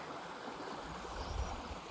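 A river flows beneath an old Roman stone bridge, giving a soft, steady rushing wash of water at low level with no voices.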